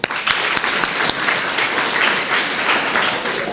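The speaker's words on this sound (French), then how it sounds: "Mais applaudissez-vous." A live audience bursts into sustained, dense applause at a French-language talk, steady and close for the whole stretch with no pause.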